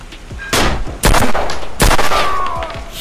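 Loud gunfire from the mobile shooter game Sierra 7, a safe-house level played for headshots: three close, sharp shots or short bursts spaced about a second apart, each decaying into a rumbling tail, with no talking.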